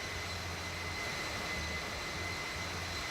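Simulated aircraft engine during takeoff rotation in a flight simulator, a steady loud broadband roar with a constant high whine and a faint pulsing low hum underneath.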